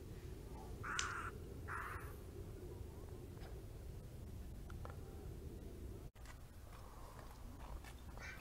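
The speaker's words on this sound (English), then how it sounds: "There are lots of birds here." Crows call at Coyote Point, a San Mateo County park overlooking the bay, with two quick caws near the start before fainter bird sounds over a steady outdoor wash of wind and background noise.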